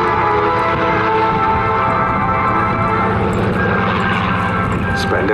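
A Spitfire PR XIX with a Rolls-Royce Griffon engine roars overhead at an airshow, a loud, continuous, deep throbbing growl that holds steady throughout with no talk over it.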